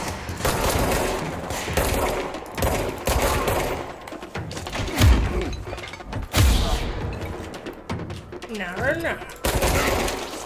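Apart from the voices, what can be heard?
gunfire from enemies in video game Control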